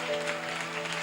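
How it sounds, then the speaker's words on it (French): A church congregation claps and cheers for the Lord, with dense, steady applause and a sustained musical tone underneath. "on acclame très fort pour le Seigneur"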